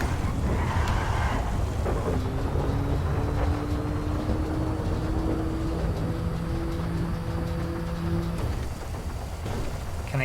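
Steady heavy rain hisses throughout a Grand Theft Auto 5 storm, with low thunder rumbles underneath and a sustained tonal hum layered in the middle.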